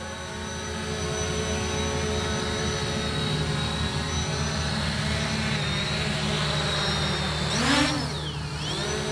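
A Fimi X8 SE drone hovers and slows to land on grass, its steady high-pitched motor whine close and continuous, rising briefly as it settles.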